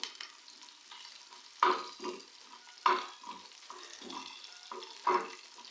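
Half an onion, a few garlic cloves and whole cumin seeds go into hot oil for a dhaba-style chana dal, giving a soft sizzle broken by several sharp stirring clatters in an irregular rhythm, with no talking.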